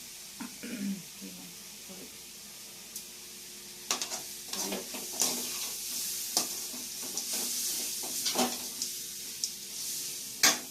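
Grated coconut heats in a dry frying pan for beetroot chutney, with soft scraping stir strokes and spatula taps against the pan over a faint sizzle, fairly quiet and close.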